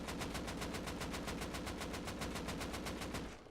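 Rapid automatic gunfire in a video game, fired with regular recoil from a crouch: a fast, evenly spaced burst of about twenty shots, loud and close, tailing off at the end.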